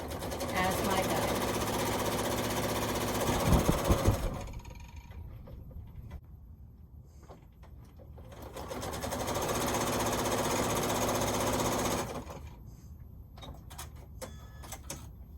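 A sewing machine stitching a quilt block seam, the presser foot edge serving as guide, runs loud and steady for about four seconds, goes quiet, then runs again for a similar stretch, with light handling sounds between bursts.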